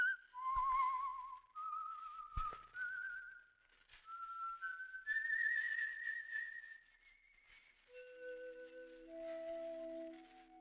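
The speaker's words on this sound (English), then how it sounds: "Let that whistle be your signal for the Signal Oil program, The Whistler" A melodic signal whistle for the Signal Oil radio program, The Whistler, sounds as a lone human-whistled tune of sliding, sustained notes that drops to lower tones near the end, with no talking over it.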